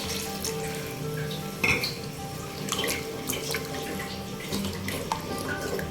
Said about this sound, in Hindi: अब मैं तकरीबन 1 गिलास इसमें पानी ऐड कर रही हूँ